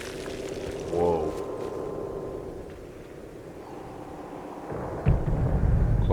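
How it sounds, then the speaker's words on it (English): Thunder from a storm in the video game Atomfall rumbles low and distant, swelling early and then fading, followed by a heavier deep rumble near the end. "Looks like a heck of a storm over there."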